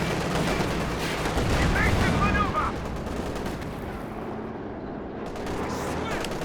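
Tank fire in a Company of Heroes 2 battle, heavy gunfire and explosions rumbling continuously with a louder cluster of shots early on, mixed with other battlefield noise.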